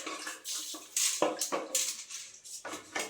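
Raw lamb brain rinsed in water in a home kitchen: irregular splashes and trickling water with light clinks of a bowl, close and moderately loud, with no speech.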